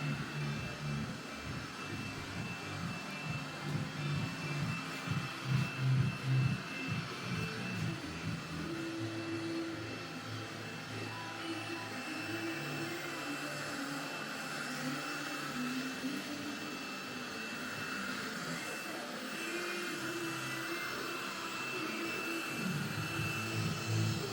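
A robot vacuum cleaner picking up dust indoors, heard as a continuous whirring motor drone that wavers slightly in pitch as it moves about, with no speech.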